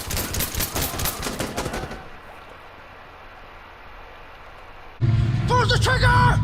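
Gunfire in the video game Insurgency Sandstorm, with US forces in a firefight: a loud burst of rapid shots fires, drops to a quieter stretch, then another loud burst returns near the end.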